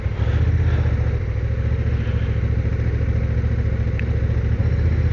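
A Honda NT1100 DCT motorcycle rides along with a steady, loud engine drone and continuous low rumble, heard close from the rider's position with wind noise.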